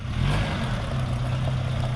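A car engine revs steadily with low mid-range drone while backing up with a trailer during a homebuilt trailer project, continuous and fairly close, no talk over it.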